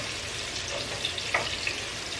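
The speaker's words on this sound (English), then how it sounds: "Just going to saute it long enough to get the garlic flavor through the" Garlic sautéing in butter in a pan for shrimp scampi, a soft, steady close sizzle with a few faint pops, short and without speech.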